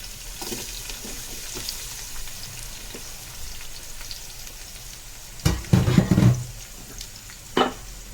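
Sliced onions, about 200 grams, sauté in a pan for mutton biryani, with a steady soft sizzle and occasional louder scraping stirs near the end.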